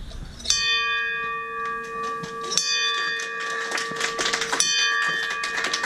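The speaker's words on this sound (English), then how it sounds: "Okay, so let's get you ringing the bell." A bell of hope is rung three times to mark the end of a patient's treatment, three bright metallic strikes each followed by a ringing decay, with faint clapping and room noise.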